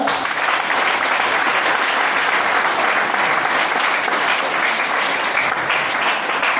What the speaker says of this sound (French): On peut acclamer le Seigneur